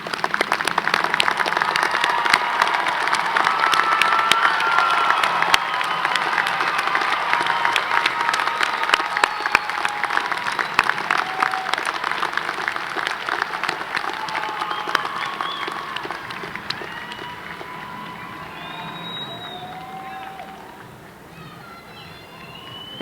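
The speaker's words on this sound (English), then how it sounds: "ask that you now stand for a well-deserved round of applause" A large crowd at the 2016 CSUN commencement for the College of Health & Human Development applauds and cheers, with dense, loud, sustained clapping, scattered whistles and shouts, easing slightly toward the end.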